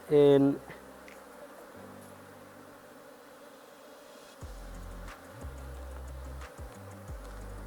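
Honey bees buzz steadily at an open beehive fitted with two honey supers during a hive inspection, with a brief louder burst at the start and soft knocks and thumps from handling later on.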